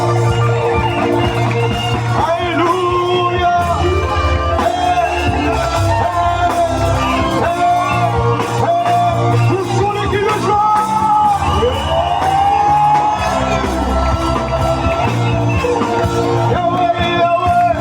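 A church congregation shouting and cheering in acclamation during worship, with loud sustained whoops and yells over music, keeping up a continuous crowd roar for the full length.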